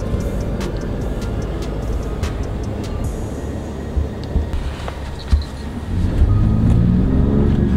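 A car driving on the way to San Juan gives a steady low road rumble with the hum of tires and engine. Small clicks and bumps sound inside the cabin.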